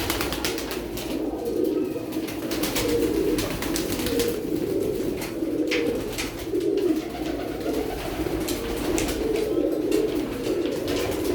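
Teddy pigeons cooing steadily in an indoor loft, a dense chorus of low overlapping coos running throughout with faint rustling and no talk.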